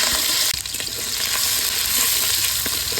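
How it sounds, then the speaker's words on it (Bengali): Shrimp and chopped onion fry in oil in a wok, producing a loud, steady close sizzle with occasional stirring scrapes and a brief clatter near the start, no voices. "কড়াইতে তেল দিয়ে দিলাম চিংড়ি মাছ আর পেঁয়াজ কুচি দিয়ে দিলাম"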